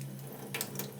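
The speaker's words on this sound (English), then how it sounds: "I'm going to put in 3 tablespoons of water." Three tablespoons of water poured in to mix with cornstarch for a slurry while cooking chicken pancetta, heard as a faint running trickle with a short splashy burst near the end.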